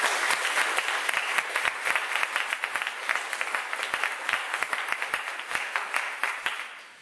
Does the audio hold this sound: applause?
yes